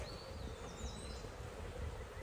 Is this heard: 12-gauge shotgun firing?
no